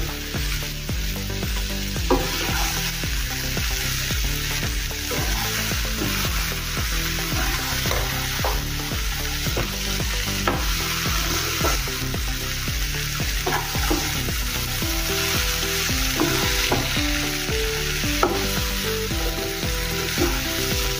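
Spiced potatoes, salted and coated in masala, sizzle steadily as they are stirred in a pan over a gas flame, a continuous frying hiss with tonal background music layered over it.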